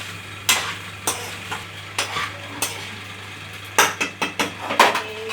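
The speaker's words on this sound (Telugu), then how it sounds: "వెల్లుల్లిపాయలు వేసి వేపాలి" Dried red chillies and garlic fry in a pan, a low sizzle under a run of sharp spoon-on-metal stirring knocks, spaced at first and then quicker near the end.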